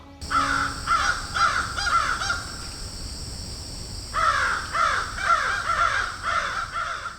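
A crow caws in repeated rhythmic bursts, loud and close, pausing briefly in the middle before another run of harsh calls.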